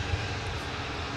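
Airliner engines at Minneapolis–Saint Paul airport during a takeoff run: a steady, broad, low-pitched roar heard from a distance, continuous and even throughout with no voices.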